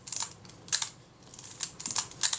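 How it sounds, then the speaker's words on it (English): A Kodak Retina IB camera's shutter being cocked and fired, giving crisp, quiet mechanical clicks in several short bursts with no talking. "as you can hear the shutter cocks and fires"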